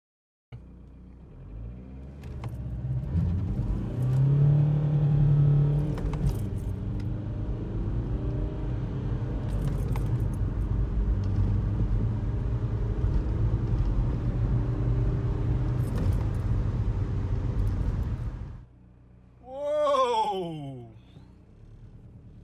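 Car engine on a road test drive, a steady loud rumbling drone with rising and falling revs for about eighteen seconds, then cutting out, followed by a short whooshing swell.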